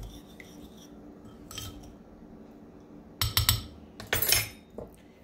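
Roasted cauliflower being stirred around in a bowl clinks and scrapes, with quiet light contact at first, then a louder burst of rapid utensil clatter against the bowl near the end, close by and without speech.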